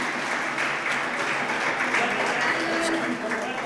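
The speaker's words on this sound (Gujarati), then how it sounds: "જોરદાર તાળીઓ સાથે આપણે આ સન્માનને વધારીએ." An audience applauds an honoree on stage at a thought-sharing program in Surat, giving dense, steady applause that fills the whole stretch at close range, with faint voices mixed in.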